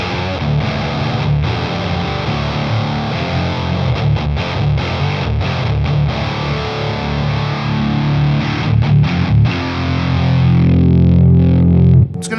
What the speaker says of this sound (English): if you're wanting a really thick fuzz sound, that's where I would have it